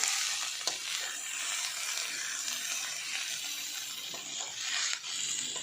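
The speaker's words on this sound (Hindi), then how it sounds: "अब आप देख सकते हैं हमने इसको लगातार चलाते हुए प्याज हमारे थोड़े से ट्रांसपेरेंट होने शुरू हो रहे हैं।" Onions frying and being stirred in a pan while a Sindhi bhindi masala is cooked, giving a steady close sizzle with soft scraping strokes throughout and no voices.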